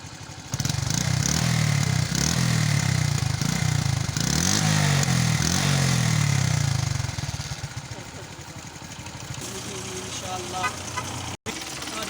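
A motorcycle engine runs loud and close, its pitch rising and falling in repeated revs for several seconds before settling to a lower steady drone, with voices talking over it.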